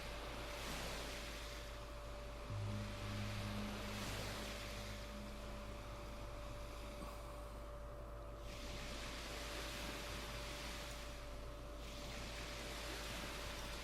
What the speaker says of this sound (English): Water noise is so loud